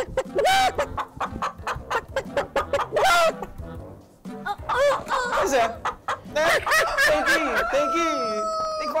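Chickens cluck loudly and close in rapid, repeated bursts, the hen calls mixing and overlapping with people talking nearby.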